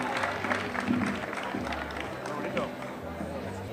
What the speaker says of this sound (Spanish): Fuerte aplauso aquí.